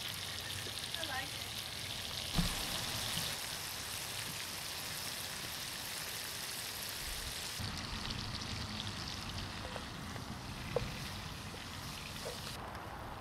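Sausages (bangers) browning in a pan for Dublin coddle, a steady, fairly soft frying sizzle with a few small pops throughout.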